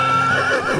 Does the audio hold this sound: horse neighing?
yes